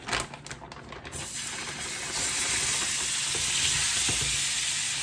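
Steak sizzling in a hot pan over medium heat as it sears, a steady crackling fry that starts softer and swells louder and denser after a couple of seconds, continuing without pause.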